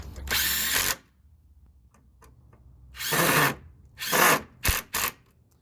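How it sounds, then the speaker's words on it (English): A Ryobi impact driver drives screws into wood in several loud, close bursts: a long first run, a pause, then two more runs and two quick short hits. "We're going to go forward on this guy, and we're just going to drill these screws down into the wood."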